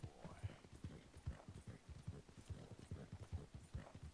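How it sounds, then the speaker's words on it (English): Hooves of a fast-galloping horse in a video game pound in a quick, even rhythm, fairly quiet and steady from start to finish. "This horse is really fast,"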